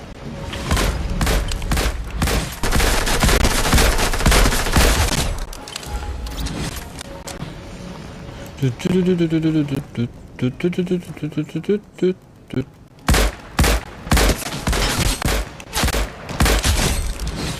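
Gunfire in Fortnite, with dense bursts of shots and impacts, loud and close, breaking off midway and then returning in sharp, repeated volleys while people talk over it.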